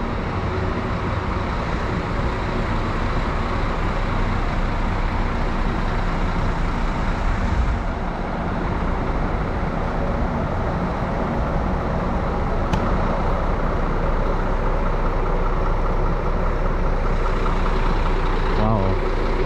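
Express Perdana double-decker bus idling at the Kajang bus terminal, a steady loud low engine drone filling the whole stretch, with voices talking over it.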